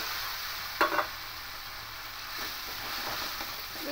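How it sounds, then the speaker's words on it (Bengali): Tomato paste goes into hot frying spices, including Kashmiri chili powder, for a vegetarian pointed gourd curry, bringing a soft steady sizzle, a sharp clink of the spoon near the start and quiet stirring scrapes after. "টমেটো পেস্টটাও দিয়ে দেবো।"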